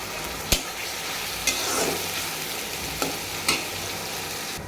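Onions and green chillies, some slit and some whole, sizzle steadily in a pan at close range while a utensil clanks against it now and then, with no talk.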